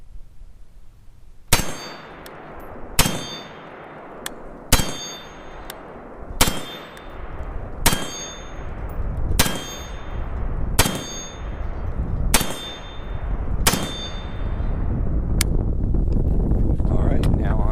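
Rifle shots ring out against a steel target with a regular rhythm, ten or so sharp cracks each followed by a clanging metallic ping, evenly spaced about every one and a half seconds, outdoors with wind noise.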